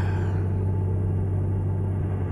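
A 1974 Hayes Clipper truck engine cruising on the road gives a steady, deep droning rumble with a constant low hum, even and unbroken throughout.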